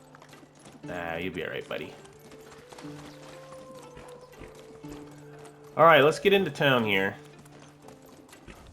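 Horse hooves clip-clop along a path in the video game Medieval Dynasty, steady and fairly soft beneath someone talking, with game mechanisms clicking in the background.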